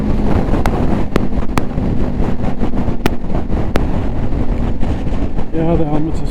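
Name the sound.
strong wind blowing on microphone outdoors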